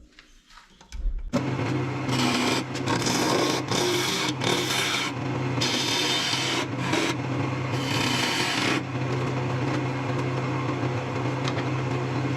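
Woodturning lathe cutting a tenon on a resin box blank: a steady rasping, scraping tool-on-workpiece noise over a constant low motor hum, starting after a second and continuing with surges as the cut varies.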